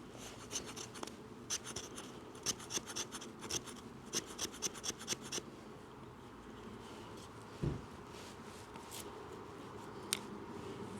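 Olfa bushcraft knife scraping shavings from a piece of fat wood, a rapid series of short dry rasping strokes up close, then a softer steadier scrape.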